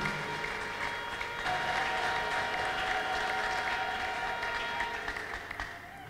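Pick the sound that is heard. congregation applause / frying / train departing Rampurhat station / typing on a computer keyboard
congregation applause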